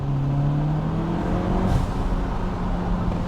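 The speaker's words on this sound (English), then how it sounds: "You can hear the exhaust." A Peugeot 308 GTi drones steadily at cruising speed with the windows down, its exhaust tone holding and then easing slightly over road and wind rush, heard from inside the car with no talking.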